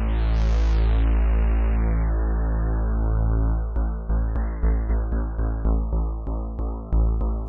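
Bass pad built in the Vital synthesizer, a deep, rich sustained drone whose filter resonance creeps upward, later pulsing with rhythmic throbbing attacks; loud and close with no voices.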